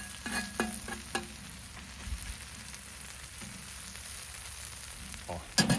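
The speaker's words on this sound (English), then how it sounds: "That's a nice sizzling sound, getting just the right temp here" Mushrooms frying in a hot pan give off a steady, soft sizzle, with a few scraping stirs and clinks near the start and a louder clatter at the very end, no voices.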